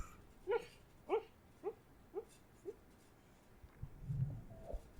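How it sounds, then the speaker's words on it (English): A sleeping dog whimpers while dreaming indoors, giving five soft, evenly spaced high yips that fade, followed by a faint low murmur. "My dog is having a dream right now."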